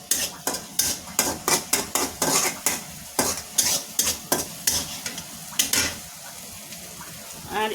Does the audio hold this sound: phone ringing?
no